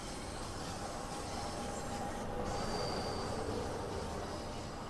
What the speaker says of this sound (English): Oh, there goes a train.